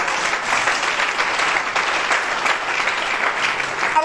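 A church congregation applauding during a Sunday service, a dense, steady wash of clapping from many hands filling the room throughout.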